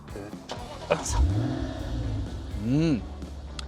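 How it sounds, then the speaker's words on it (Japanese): A Lexus IS F engine cranks and catches, then settles into a steady idle before a rising rev swells and falls back, heard up close amid some voices. "エンジンかけさせてもらうと"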